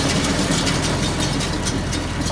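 A tractor engine idles nearby, a loud, steady low rumble that continues without change and has no voices over it.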